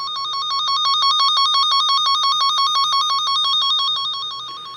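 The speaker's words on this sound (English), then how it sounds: "wherever you have a short, it'll get louder and louder until you find it" A short finder's electronic tone beeps in fast, steady pulses at a split in a tail-light wire on a Dakota, loud and alone, swelling then tapering toward the end.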